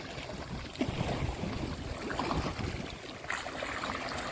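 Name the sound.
river waves whipped up by stormy wind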